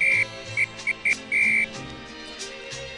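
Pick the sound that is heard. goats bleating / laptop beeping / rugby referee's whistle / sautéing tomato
rugby referee's whistle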